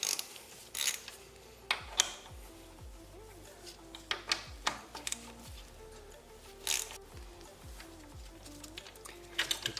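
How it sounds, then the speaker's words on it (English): A ratchet loosening the brake caliper bolts on a Yamaha XSR900 motorcycle's front wheel, heard as quiet, close clicking bursts and scattered metallic clinks at irregular intervals, with nobody speaking. "And I'm going to remove the brake caliper bolts."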